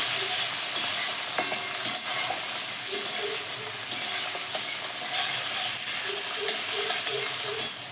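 Chopped onion, tomato and capsicum fry in a hot pan for a Bengali prawn kalia. A steady loud sizzle runs throughout, broken by repeated scraping strokes of a spatula stirring the mix, with no talking.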